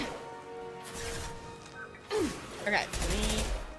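Gunfire in the sci-fi shooter Mass Effect 2 as a squad reloads and fires: several sharp, punchy shot bursts and crashes, loudest in the second half, mixed under a person talking.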